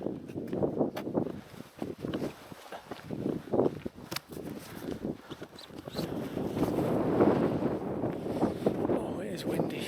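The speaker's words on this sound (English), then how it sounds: "Oh, it is windy, really windy" Gusty wind on a hiking trail near Ilulissat, Greenland buffets the microphone in uneven rumbling bursts, growing stronger and steadier in the second half, with a voice speaking over it.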